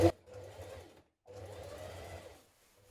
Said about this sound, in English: Now top stitch around the front of your collar and down both sides of your jacket